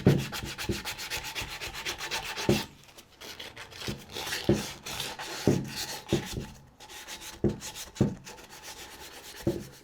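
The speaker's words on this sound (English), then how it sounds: "just scuff it up, get the corrosion off it" Abrasive scuffing removes corrosion from a boat's propeller shaft, heard as rhythmic back-and-forth rubbing strokes, close and fairly loud, with brief pauses between passes.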